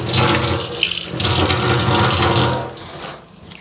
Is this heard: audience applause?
no